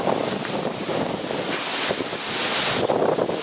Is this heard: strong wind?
yes